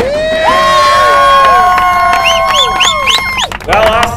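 A short-track speedway crowd cheers for the winner of a Roadrunner feature race, with loud whoops, shouts and rising calls layered over a steady roar of the grandstand.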